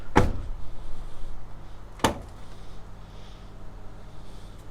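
A door on a 2023 DAF XG truck cab shuts with two sharp, fairly close thuds about two seconds apart, then a quiet hum continues in the background.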